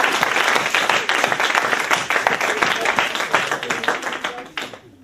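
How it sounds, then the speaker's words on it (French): An audience at a church gathering in Lille gives a burst of dense, loud applause lasting several seconds before fading out. "On peut l'acclamer."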